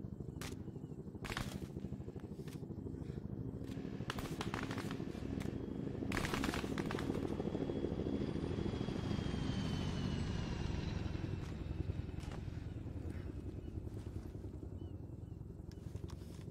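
A helicopter flies in the military video game Arma 3, its steady loud engine and rotor roar running throughout, with scattered sharp gunfire cracks layered over it early on.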